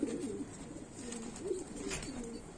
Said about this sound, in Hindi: नर है ये, ये नर है, बहुत ही छोटा कबूतर है ये